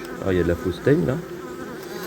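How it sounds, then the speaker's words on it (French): Honeybees buzzing around an autumn beehive, a close steady drone under someone speaking French in a couple of short phrases. "Malgré le beau temps et la mielée, beaucoup d'abeilles restent à l'intérieur des ruches."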